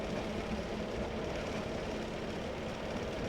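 A diesel engine of an old Class 101 train in Train Simulator 2020 gives a steady, loud, low rattling rumble with continuous vibration throughout.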